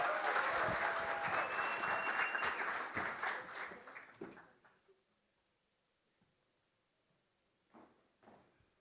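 Crowd applause for a singer at a Christmas launch event, loud and dense for about four seconds, then fading out into near silence, with a brief faint patter of a few claps returning near the end.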